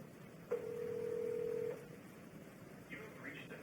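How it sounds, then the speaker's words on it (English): A single steady telephone tone, like a dial tone or dialing beep, sounds from an enterprise phone client while dialing 933. It holds for about a second, followed by faint electronic chirps under quiet background hiss. "now from my enterprise client, if I dial 933"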